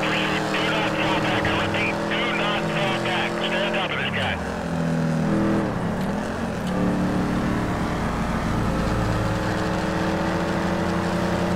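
An upgraded retro Chevy police car engine in GTA V hums with a steady, beefy note, then its pitch shifts and wavers as it revs up and down.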